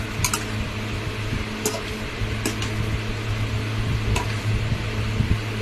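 Boiled jackfruit stirred in a pan, a low steady frying hiss under a mains-like hum, broken by a few sharp scraping clicks of the spoon against the pan.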